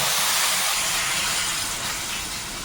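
Water is poured into a hot pan of prawns and vegetable stalks, giving a loud, continuous hissing rush that fades slightly toward the end, with no talking.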